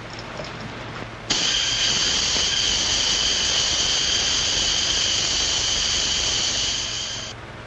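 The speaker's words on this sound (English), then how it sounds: "Turn on the steam." Steam is turned on with a sudden loud, sustained high-pitched hiss and whistle that holds steady for several seconds before easing slightly at the end, in an old 1937 film scene without talk.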